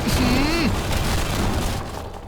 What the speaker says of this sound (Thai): แล้วเขาไป แตะอะไรเมื่อไหร่ก็ระเบิดทันทีนะฮะเนี่ยตึกล้มหมดเลย